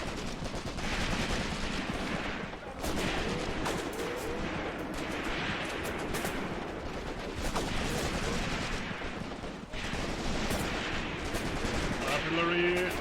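Dense gunfire and artillery in the Graviteam Tactics wargame, Operation Blau battle: continuous rattling volleys and booming impacts fill the whole stretch at steady loudness, with a brief faint voice underneath.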